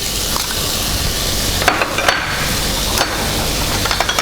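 Celery tipped into a pan of sizzling onion and garlic for a beef stew, giving a steady close frying hiss with a few sharp clatters and scrapes of stirring along the way, and no voices.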